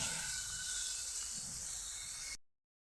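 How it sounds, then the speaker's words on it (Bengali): Green peas fry with spices in a pan, making a soft, steady hiss that stops abruptly near the end; no voices. "মশলার সাথে একটু ভেজে নেব"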